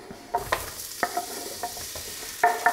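Carrots and onions hitting a hot, oiled pan for Irish stew, with a steady close sizzle broken by several sharp stirring scrapes and clatters.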